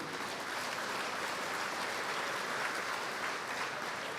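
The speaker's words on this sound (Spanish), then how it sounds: "Un fuerte aplauso por los que han traído Biblia" Applause from a church congregation during a Catholic sermon, a continuous even crowd clapping heard at a distance, soft and unbroken across the whole stretch.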